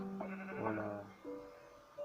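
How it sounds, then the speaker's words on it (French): Minecraft sheep bleat twice in quick succession, wavering, nasal cries close and clear, the second shorter and thinner than the first. "il y en a encore d'autres des moutons donc c'est bon"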